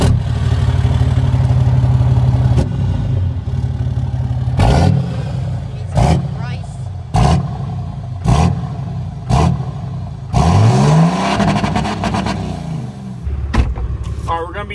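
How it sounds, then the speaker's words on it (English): Cummins 4G diesel truck on a two-step cold start, a steady loud idle broken by a series of sharp revs and bouncing limiter pops, close by, with a voice briefly heard. "We'll do a two-step cold start."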